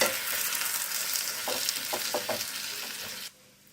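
Coriander stems, green chilli and salt being stirred in a hot pan for a tomato soup, a steady sizzle with several short scraping stirs midway, close and loud, cutting off abruptly near the end.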